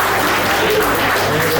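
A crowd at a Rotary Club of Rajahmundry prize distribution applauds the chess tournament winners in a loud, dense, unbroken wash of clapping.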